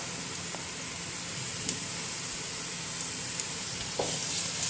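Beetroot frying in a pan, a soft continuous sizzle and hiss with a few faint clicks and taps, fairly quiet and steady throughout.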